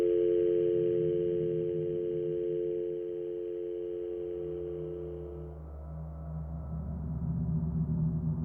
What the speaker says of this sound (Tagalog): binabaan na ako ng telepono ni Ma'am Emma